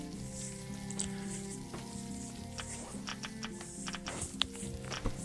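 Meat sizzles over a campfire in the survival game Stranded Deep, a steady soft frying hiss with small crackles running under a bed of game music.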